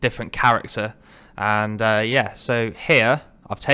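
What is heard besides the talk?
None of the usual background noises is heard.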